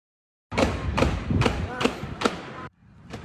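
Gunfire in a shopping mall parking lot in the Dallas area of Texas: five sharp, loud shots in a steady rapid series, then a quieter stretch with one more distant report.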